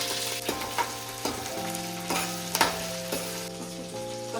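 Ingredients frying in a pan for a mixed pulao with prawns, a soft sizzle under a sustained tonal hum, with a few sharp stirring clacks spread across the moment.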